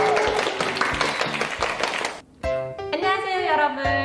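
A class of fifth-grade children claps briefly in a quick burst of applause, which fades within about two seconds and gives way to a teacher's voice speaking over the quiet room.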